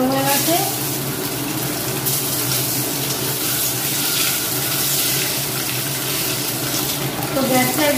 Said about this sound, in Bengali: এবার আমি চিমনিটা চালিয়ে দিয়েছি, আর আপনাদের হয়তো কানে দুর্দশ আওয়াজ যেতে পারে